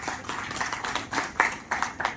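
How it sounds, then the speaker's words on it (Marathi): An audience at a solar energy expo road show in a Pune hotel claps in short, uneven bursts of moderate loudness. "तुम्हा सर्वांच्यासाठी एकदा पुन्हा टाळ्यांचा कडकडाट"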